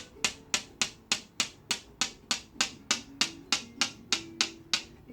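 A piezoelectric massage device taps steadily along the rhomboid and trapezius muscles of a back, making about fifteen crisp, evenly spaced clicks with a faint underlying hum, close and clear with no talking.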